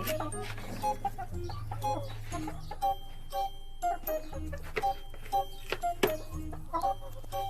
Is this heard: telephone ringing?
no